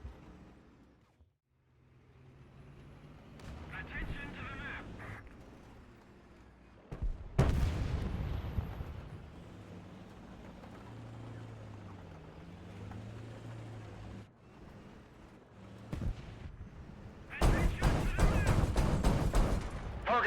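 M3 Bradley cannon fire in a video game: loud, sharp bursts ring out alongside a low, rumbling engine drone, with a dense, crackling flurry of shots near the end.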